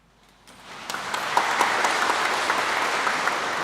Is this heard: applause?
yes